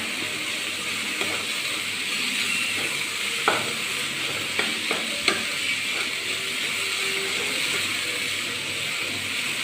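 Beef with ground potato being stirred in a hot pan, heard as a continuous sizzling hiss with scattered sharp scrapes and taps of the spoon, close and steady throughout.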